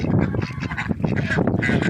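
A flock of domestic ducks, several females and one drake, calls noisily up close, overlapping honks and quacks forming a continuous, dense chorus.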